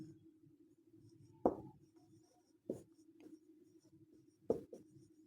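Handwriting on a page during a geometry lesson: scratchy pen strokes with a steady faint hum beneath, broken by three sharper taps as the writer lifts and sets the pen, with no one speaking.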